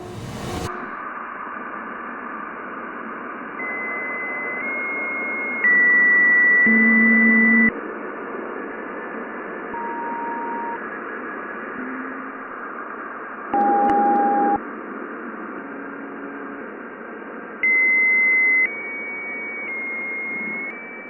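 NASA radio recording of lightning on Jupiter: a steady hiss of static with intermittent electronic tones and brief louder bursts, alone without voices.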